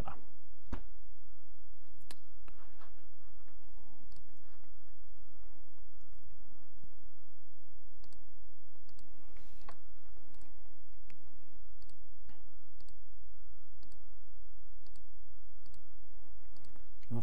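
Mouse clicks on a computer during a lecture, sharp isolated clicks scattered irregularly across the span, close and fairly quiet over a low steady hum, no speech.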